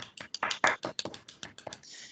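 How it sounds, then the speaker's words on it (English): A few scattered hand claps and taps at a virtual recognition ceremony for a Bike MS charity ride team, sparse and uneven rather than a full crowd, with some light voice sounds mixed in. "I need like a giant loud applause happening right now."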